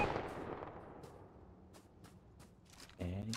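Video game gunfire crackles in short sharp bursts across a few seconds, with scattered shots and a louder final volley, mixed with faint in-game background noise.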